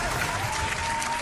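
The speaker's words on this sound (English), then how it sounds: "We're going to give Helen a round of applause for the directorship." Dense, continuous clapping from a crowd, loud and steady throughout, with no break.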